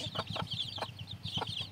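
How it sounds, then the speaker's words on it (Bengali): Desi chickens clucking close by, giving a run of short repeated clucks with a few sharper calls over a low, steady background. "সবটি মুরগি ঠিক আছে"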